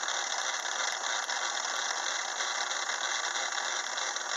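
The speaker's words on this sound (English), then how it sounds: "This is how one does a facing operation in the lathe." A Craftsman 6 inch metal lathe faces a piece of steel under a power feed motor on the cross slide, giving a steady, faint high whir and hum with slight mechanical flutter, continuous and unbroken.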